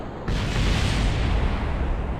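Rocket explosions in the space flight game Kerbal Space Program: a sudden loud, sustained rumbling blast that kicks in abruptly and roars on without a break.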